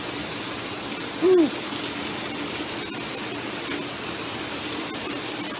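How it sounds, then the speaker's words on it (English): Heavy rain pours down in a steady, even hiss. A brief hooting tone breaks through near the start and one person lets out a short exhale. "look at that rain. Now it's coming down."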